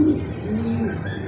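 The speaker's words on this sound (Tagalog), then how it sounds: "dumating na yung second bird natin" Racing pigeon arriving at its loft at the end of a six-lap race, cooing in soft, low, continuous calls close by, with no voices.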